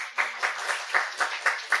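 A church congregation at a Sunday worship service claps in a brief, rhythmic burst of about eight even beats, fairly close and moderately loud, with no talking.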